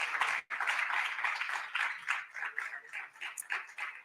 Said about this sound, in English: I see you start clapping.